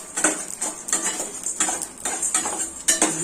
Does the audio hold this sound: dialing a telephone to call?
no